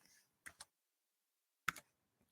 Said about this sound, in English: I am typing something, but it is not displaying anything because of the option -s, silent.